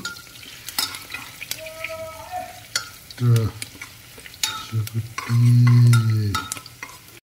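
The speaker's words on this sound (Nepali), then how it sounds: "प्याज हाल्दैछु, खुर्सानी हाल्दैछु, म चलाउँदैछु, फ्राई गर्दैछु।" Onion and chili fry in hot oil for local sukuti while a spoon stirs them, a loud close sizzle broken by scraping strokes and bursts of louder hissing; no speech.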